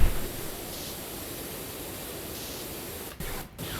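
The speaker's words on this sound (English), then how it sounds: "just constantly have the stream on and I'm just spraying it everywhere" Pressure washer spraying a constant stream in the Powerwash Simulator 2 video game, a loud, steady hissing spray that briefly cuts out twice near the end.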